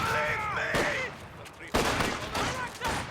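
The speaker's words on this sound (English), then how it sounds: "I am shooting at these guys who are trying to put down a mine here" Bursts of rapid gunfire and rattling shots in a Company of Heroes 2 battle between Soviet, British and US forces and the Axis, loud and repeated over about three seconds with voices under the din.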